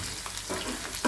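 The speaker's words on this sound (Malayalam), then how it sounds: "ആയിട് ചില്ല നമ്മൾ ഉപ്പേരി വറക്കുന്ന പോലെ സൗണ്ട് വരുന്നുണ്ട് കേട്ടോ." Potato pieces fry in hot oil with curry leaves, giving a soft, continuous sizzle with faint crackles during a brief, quiet moment, and no talking.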